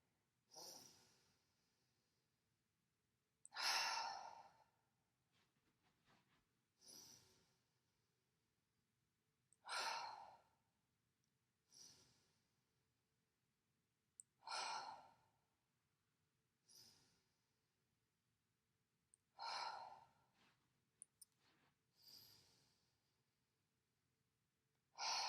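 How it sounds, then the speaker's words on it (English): Slow, deep breaths during a breath-mechanics exercise: about nine drawn-out inhale and exhale cycles, each a soft airy rush that swells and fades, close and quiet, separated by short pauses, with no talking. "I'll take a breath in."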